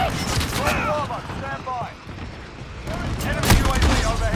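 Rapid bursts of gunfire crackle through a Call of Duty match, with dense shot clusters, short gaps and a heavy burst near the end, while a player talks over parts of the action.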